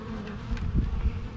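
Agitated honeybees buzz close by during an inspection of a long horizontal Langstroth hive, a dense drone that swells briefly and then eases.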